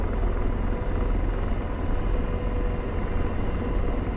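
Apache AH-64 helicopter engine in the DCS flight simulator spooling up under throttle, a steady loud turbine and rotor rumble holding constant throughout with no voices.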